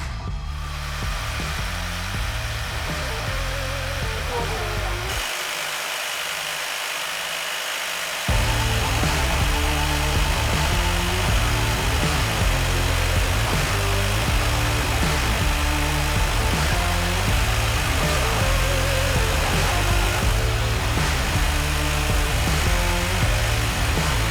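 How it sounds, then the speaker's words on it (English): A Milwaukee Super Sawzall reciprocating saw cuts with orbital action, giving a loud, continuous mechanical buzz that drops to a quieter lull for a few seconds before surging back at full strength, with no talking. "we wanted to see the results when we put orbital action on the Super SAWZALL"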